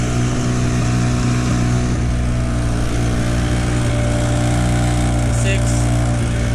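A Hangkai 6hp outboard motor runs steadily just above idle, pushing a boat along at low speed on the water with a loud, even, buzzing drone close by throughout.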